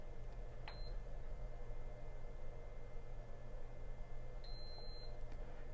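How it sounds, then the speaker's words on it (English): Two short electronic beeps from an AquaticLife Pulse LED aquarium light timer, one early and one about four seconds later, over a steady low hum. "You'll hear one beep and then you'll hear a second beep after about 4 seconds."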